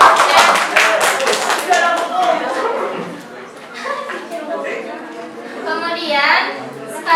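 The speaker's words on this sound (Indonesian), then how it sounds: "Beri tepuk tangan." Elementary school classroom clapping during a lesson on angles: a brief burst of hand claps at the start, followed by children's chatter and voices talking over scattered taps.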